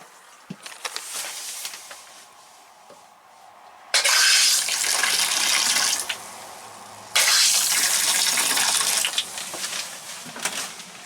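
Water and pink antifreeze run from the kitchen faucet of a 1998 Sportsmen KZ travel trailer during winterizing, a thin trickle at first, then two loud bursts of full gushing flow into the sink with brief pauses between them.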